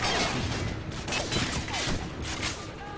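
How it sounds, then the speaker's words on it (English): Dense gunfire erupts from every direction during a video game ambush, with rapid overlapping shots and booms forming a steady, loud barrage for the full three seconds, and no talk. "shots are coming from all sides"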